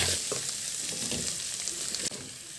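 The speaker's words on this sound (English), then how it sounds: "I was cooking my meat in some ginger, some oil, and also some onions and garlic" Meat frying in hot oil with ginger, onions and garlic, giving a steady, close sizzle with small crackles and a brief stir.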